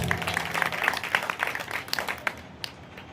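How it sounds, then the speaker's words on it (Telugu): An audience at a Christian sermon gathering bursts into dense, steady applause, many hands clapping together at close range, loud at first and thinning out toward the end. "చప్పట్లు కొట్టండి ఒకసారి గట్టిగా"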